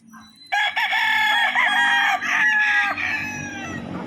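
A Gilmore bloodline bullstag gamefowl crows once, close and loud, a long strained call with a wavering middle and a fading tail, with no voices.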